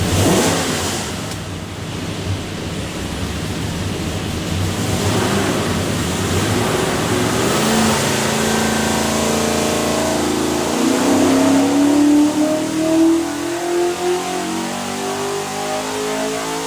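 A 347ci Hi-Ram small block Ford V8 with a Moroso rear sump oil pan runs on a dyno, roaring loud and continuous as it revs up steadily through a long pull, with no voices.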